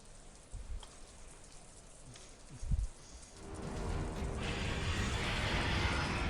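Rain in a ghost story scene on a rooftop: quiet patter at first, then a steadier wash of falling rain builds and continues, with a few creaks and a low thump early on.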